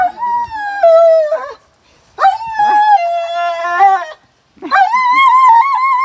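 A dog howls and whimpers in three long, wavering, high-pitched cries separated by short pauses, loud and close.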